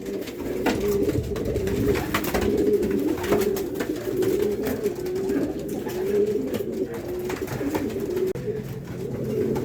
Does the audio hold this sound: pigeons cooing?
yes